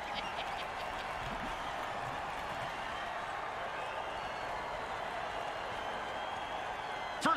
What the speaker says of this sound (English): Oh, crowd's loving it.